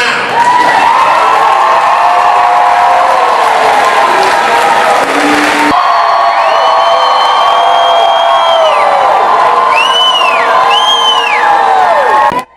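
A large crowd at a rally for the Mill Neck Manor School for the Deaf in Albany cheers, whoops and applauds loudly and continuously, with shouts and whistles rising above the din.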